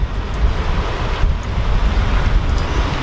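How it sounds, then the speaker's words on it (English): Strong wind roars loudly and continuously against the microphone, a deep rumbling buffeting with no voices. "And the wind is really picking up all of a sudden."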